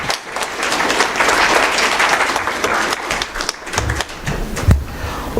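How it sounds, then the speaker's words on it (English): Applause from a conference audience during a gift presentation at an opening ceremony, dense steady clapping filling the room for several seconds, close and loud, with no voices standing out. "Let's clap."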